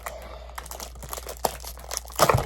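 Plastic wrap being peeled from a Moyu WRM 2021 cube box, close crinkles and small crackling pops, louder in a burst near the end, with no one talking.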